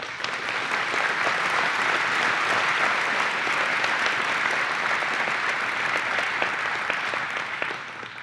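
A large audience at NASA's Marshall 2022 Agency-Level Honor Awards ceremony applauds an award recipient with steady, dense clapping that holds loud for about eight seconds and eases off slightly at the end.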